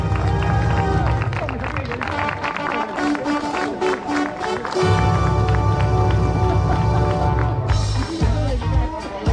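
A crowd at a running race's awards ceremony gives sustained applause and cheering for the men's overall winning trio, a dense, steady wash of clapping with chatter mixed in and one brief pause midway.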